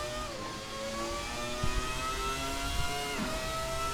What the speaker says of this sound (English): the throttle blips on the downshifts, very impressive, both in the cockpit and from the outside